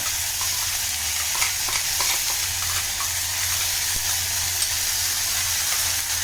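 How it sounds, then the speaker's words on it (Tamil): Steady sizzling of ground ginger and gooseberry paste frying in hot oil for rasam, with occasional scraping and stirring clicks, close and continuous with no talking. "இந்த பச்சை வாசனை போகிறதுக்கு ஒரு நிமிஷம் வதக்கலாம்"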